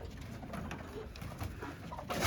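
Pigeons cooing in a pen among other birds, soft repeated coos at a moderate distance over a quiet barn background, with no talk.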